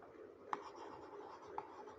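Soft scratchy strokes of writing on a board, a continuous faint scraping with occasional sharper taps as the writing tool meets the surface, quiet and close.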